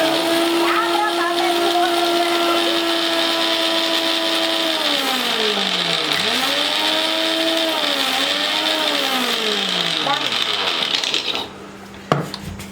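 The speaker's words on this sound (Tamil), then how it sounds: "இந்த பிஸ்கட்ஸை first இந்த மிக்ஸி ஜார்ல போட்டுடலாம். போட்டுட்டு just பவுடர் பண்ணிக்கலாம்" A mixer grinder whirs loudly and steadily as it powders biscuits, its motor pitch sliding down and wavering as it runs, then cutting off near the end.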